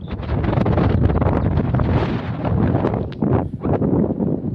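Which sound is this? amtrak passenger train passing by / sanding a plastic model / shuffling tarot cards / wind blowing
wind blowing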